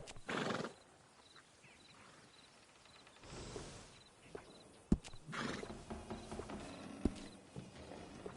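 A horse neighs and whinnies in bursts with clip-clop hoofbeats and sharp knocks between, fairly close, with quiet gaps and no talk.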